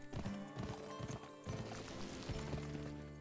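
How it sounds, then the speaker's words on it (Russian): Horse hooves clip-clopping in the video game Gun, a steady quick rhythm of hoof beats over a low background music bed, fairly close and moderately loud. "Поехали, лошадка."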